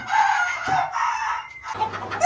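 Ornamental chickens, including Brahmas, on a fancy poultry farm crow and cluck loudly and close by, with one drawn-out crow followed by shorter calls and no talking.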